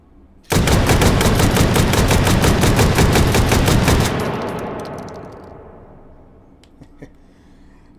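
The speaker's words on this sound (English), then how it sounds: "This is buckshot we're firing, but we'll try other rounds later." An AA-12 shotgun fires buckshot in a loud, rapid automatic string of about a dozen shots lasting several seconds, then the blasts echo away across an open range.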